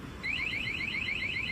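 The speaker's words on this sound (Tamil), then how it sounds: "ஃபர்ஸ்ட் டைம் வாங்கினா 2 times அலாரம் அடிக்கும்." Motorcycle anti-theft alarm sounding after remote locking, a loud, rapidly repeating warbling electronic beep that starts abruptly and continues alone.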